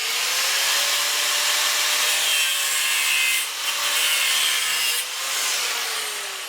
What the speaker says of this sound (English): I need to put this in a vise and run that grinder right down the side and make a keyway